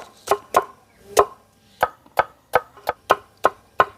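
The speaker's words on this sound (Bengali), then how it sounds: "আদাটাকে কুচি কুচি করে কেটে নেব।" Knife finely chopping ginger on a board, about a dozen crisp sharp chops in an uneven rhythm, close and clear with nothing else heard.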